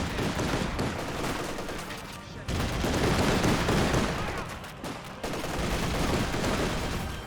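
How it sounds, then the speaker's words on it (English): Rifle volleys and scattered gunfire in a Company of Heroes 2 battle, infantry firing on Volksgrenadiers, a dense continuous clatter of shots with a few heavier bursts, mixed with battlefield noise and some talk. "Good volleys there onto the Volksgrenadiers"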